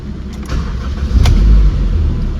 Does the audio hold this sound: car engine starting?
yes